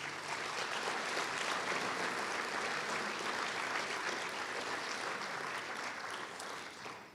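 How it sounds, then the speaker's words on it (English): Audience applause at a Martin Luther King Jr. Day celebration, a continuous even patter of many clapping hands, heard faintly and at a distance, steady before thinning slightly at the end. "Please give them a round of applause"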